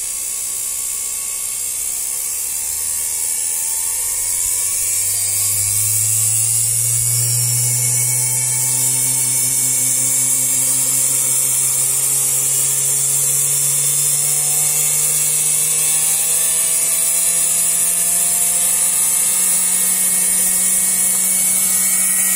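A low-cost spindle motor with a low-EMI speed controller hums close and loud, its steady whine rising gradually in pitch as the speed is turned up.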